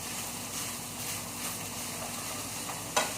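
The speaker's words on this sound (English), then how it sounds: "our rice is still cooking" Ecuadorian chicken and rice simmering in a pot, a steady soft bubbling sizzle holding at a low, even level, with a brief sharper clink near the end.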